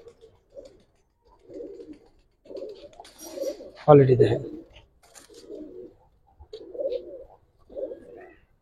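Pigeons, giribaz and coloured breeds kept for sale, give one short throaty coo alone amid a seller's talk, with soft movement sounds around it.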